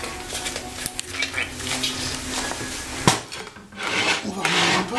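A utensil stirs cream and eggs with ham in a bowl, giving irregular scraping and clinking against the bowl with a few sharp knocks, close and fairly loud.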